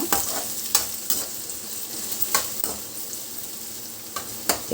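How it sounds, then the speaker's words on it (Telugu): Onion pieces fry in hot oil in a kadai for a stuffed brinjal masala curry, giving a steady close sizzle broken by several sharp scraping stirs. "ఉల్లిపాయ ముక్కల్ని దోరగా వేయించుకోవాలి"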